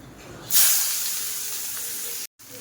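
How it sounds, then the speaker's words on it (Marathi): Chopped onions hit hot oil with a sudden loud hiss, then sizzle steadily with turmeric added, broken by a brief silent gap near the end. "आता घेते मी कांदा टाकून आधी ह्याला तळून घेते चांगलं"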